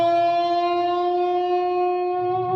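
A single sustained electric guitar note is bent slightly while the other strings stay muted. It rings clearly and steadily on its own, with a faint string-scraping noise underneath.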